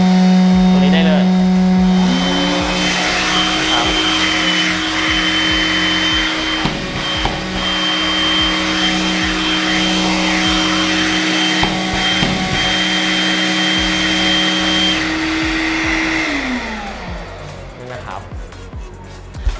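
A DeWalt DCV586M cordless vacuum cleaner runs with a loud, steady motor whine and airflow roar, its pitch shifting early on, then winding down near the end while someone talks over it.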